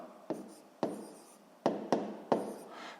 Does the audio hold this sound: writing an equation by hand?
yes